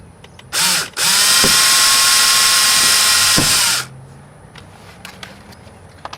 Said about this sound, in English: we're going to put a smaller drill bit in there and drill into the metal